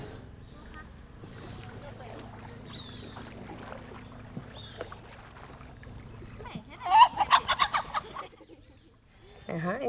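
Chickens beside a boat on the Amazon river, a short burst of clucking and squawking near the end, fairly close and loud after a quiet stretch of faint ambient noise.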